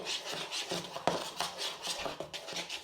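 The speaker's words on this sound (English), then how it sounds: "Mix it around with a spoon." A spoon stirs blue-tinted pancake batter in a bowl, with a run of close scraping and clinking strokes against the bowl's sides in an uneven rhythm, a few sharper knocks standing out.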